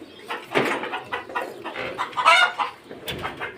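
Chickens kept on a rooftop alongside pigeons cluck repeatedly in a steady, chattering series of close, moderately loud calls with short pauses between bursts.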